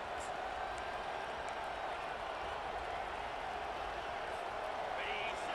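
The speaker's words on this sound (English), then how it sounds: "This crowd is trying to inspire this defense to make a big red zone stop" Dense, steady roar of a big stadium crowd in a college football video game, a continuous wash of cheering that holds loud throughout as the home fans urge on the defense for a red zone stop.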